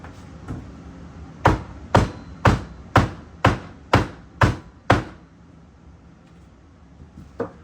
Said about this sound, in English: It's only a 24-ounce hammer, but it's not a metal hammer.